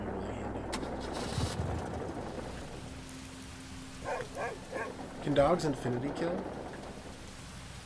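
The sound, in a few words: rain in the video game Overland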